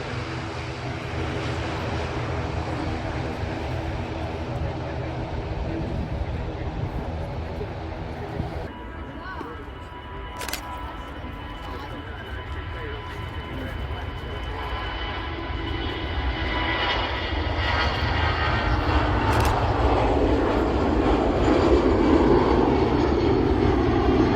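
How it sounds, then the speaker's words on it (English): An EasyJet Airbus A319-100 departs Manchester Airport, its engines producing a steady broadband roar that holds throughout and swells louder toward the end. "Departed as an Airbus A319-100, operated by EasyJet"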